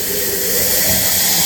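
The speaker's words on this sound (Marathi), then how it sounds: "ह्याला बोलतात जिवंत फोडणी" A tempering of spluttering mustard seeds with chillies is poured into dal, giving a loud, close, continuous sizzling hiss that holds steady for a moment without any talk.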